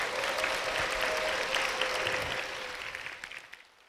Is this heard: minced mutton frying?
no